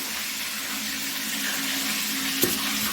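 Fish frying in oil makes a steady, soft sizzle throughout, with a faint hum underneath and one brief clatter near the end.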